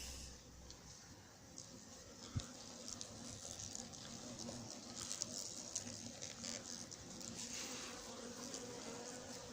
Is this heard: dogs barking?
no